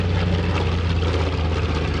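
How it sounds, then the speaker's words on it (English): A TBM Avenger warbird, the Grumman-designed torpedo bomber, flies past at the 2021 Greenwood Lake Airshow, its loud steady propeller-engine drone filling the air continuously and close. "Here's the TBM."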